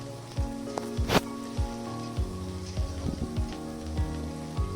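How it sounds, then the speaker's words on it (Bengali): Onion fries in hot oil for a homemade khichuri, a continuous crackling sizzle with scattered pops, heard alone without any talk. "তো দেখো এখানে পেঁয়াজটা ভাজা হচ্ছে।"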